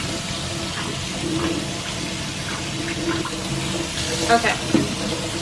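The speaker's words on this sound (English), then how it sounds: "They have a little skin on them, and so I give them a little rinse." Chickpeas being rinsed under running tap water, a steady close rush of water with light splashing and a few knocks, a brief voice heard near the end.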